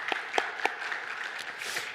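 A small church congregation gives a light round of applause, with a few sharp distinct claps standing out over a soft, scattered patter that continues evenly to the end.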